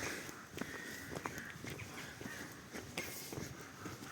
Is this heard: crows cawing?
yes